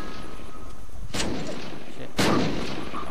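Two booming grenade blasts go off about a second apart in a grenade deathmatch in the survival video game Unturned. Each one is a loud, sudden crack that fades into a rumble.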